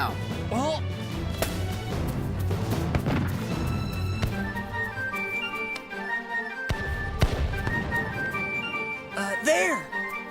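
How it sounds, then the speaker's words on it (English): Cartoon battle scene with sharp musket shots cracking several times amid loud explosions and crashes, under frequent shouted dialogue and a music score. "Take cover! Musket fire!"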